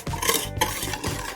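A spoon stirs vanilla sugar into a custard cream mixture for homemade éclairs, giving quick repeated scraping strokes in a bowl, close and fairly loud with no voices.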